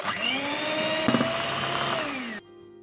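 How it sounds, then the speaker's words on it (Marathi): Electric hand beater whirring steadily through watermelon ice cream mixture in a bowl, a few brief clatters midway, then the motor cuts off abruptly near the end. "आता पुन्हा आपल्याला हे छान असं एक वेळेस बीट करून घ्यायचंय।"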